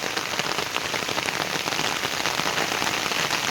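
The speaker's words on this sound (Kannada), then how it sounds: "ಮಳೆ ಜಾಸ್ತಿ ಆಯಿತು ಅನಿಸುತ್ತೆ." Heavy monsoon rain pours onto a plantation garden, a dense, steady hiss of drops on leaves and ground that stays loud and even throughout, with no voices.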